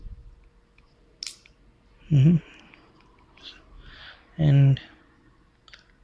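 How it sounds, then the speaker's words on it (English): A clamp snaps into place on a Samsung Galaxy phone during a screen digitizer replacement, making a few small, close, sharp clicks in a quiet room, with a couple of short bursts of speech between them. "You should be able to hear the clicking sound for this one also."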